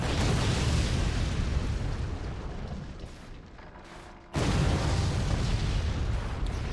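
Rockets exploding in the real-time strategy game Forts, a roaring blast that fades toward a lull, then a sudden second loud burst of rumbling explosion noise.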